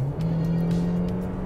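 A Hyundai Creta engine drones loudly under acceleration, a steady rising tone heard close up from inside the car with no talk over it.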